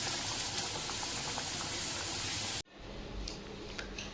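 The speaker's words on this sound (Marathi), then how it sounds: "आणि हे मी तळायला टाकले." Samosas dropped into hot oil, a loud dense bubbling sizzle for a few seconds before an abrupt cut to a quieter, fainter frying hiss with light crackles.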